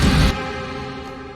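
A rising noise sweep in a heavy melodic dubstep track, bursting loud and bright for a moment before falling away under sustained strings and ambient pads that fade gradually.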